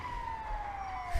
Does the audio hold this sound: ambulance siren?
yes